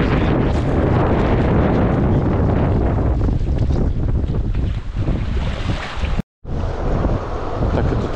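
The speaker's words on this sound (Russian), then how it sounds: "И вот ветер опять поднялся" Strong wind buffets the microphone during a river rafting trip on the Kazyr River, a loud, continuous roaring rush with gusting swells and a very brief dropout near the end, no talking.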